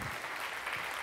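Audience applause at a science conference keynote, a steady wash of many hands clapping that fills the whole moment at an even level with no voices on top.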